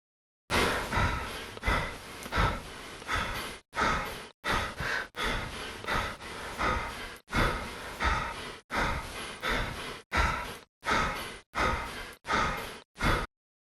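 A character breathing in an Unreal Engine 5 MetaSounds demo, with a steady sequence of close, distinct breaths, each a short burst of air separated by brief silences, continuing rhythmically throughout without any talking.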